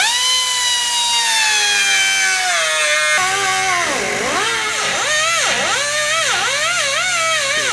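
Power tool cutting the ends off a Baja bumper frame near the body mount, a loud steady high-pitched whine that drops in pitch as it bites, then dips and recovers repeatedly under load, close and continuous without talk.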